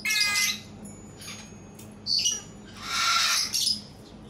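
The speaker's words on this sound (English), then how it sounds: "As you can see, there are several types of parrots in here." Several parrots, cockatoos and macaws call outdoors in harsh squawks and shrill screeches, a few loud bursts close by with quieter gaps in between.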